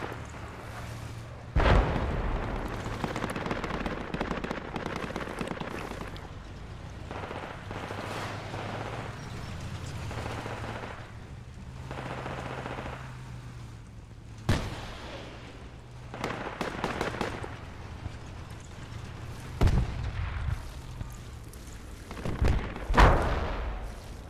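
Mortar explosions and gunfire in the Project Reality video game, distant heavy booms and sharp shots scattered over a low rumbling battlefield, with several louder blasts standing out near the end.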